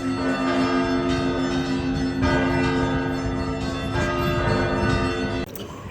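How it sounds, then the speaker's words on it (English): Church bells in Catania, Sicily peal loudly and repeatedly, overlapping strikes ringing out in a steady, rich clangor before cutting off abruptly near the end. "So many bells!"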